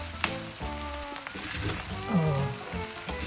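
Pancit noodles frying in a hot pan, a steady close sizzle running throughout, with a brief exclamation from a voice over it.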